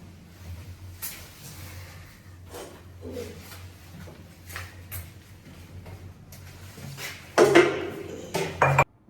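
A cooking pot being taken out in a kitchen: scattered clinks and taps of metal cookware and utensils, ending in a louder clatter of pots being handled close by.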